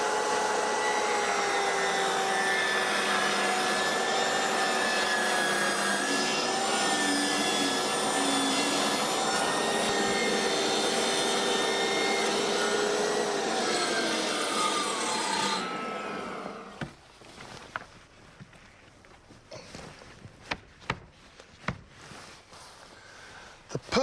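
Timber corner capping is cut to size for a modern shiplap timber-clad house: a loud, steady saw drone runs for about sixteen seconds, then cuts out, leaving scattered faint knocks and scrapes.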